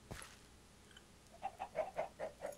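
Chickens in Minecraft cluck in a quick series of short, faint calls after a soft thump, fairly quiet and close.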